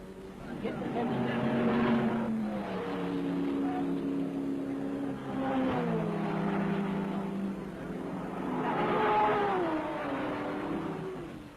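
Works Triumph TR4-based TRS race cars lap at speed during the 1961 Le Mans 24 Hours, engines droning and rising in pitch in repeated swells as they pass, steady and fairly loud throughout.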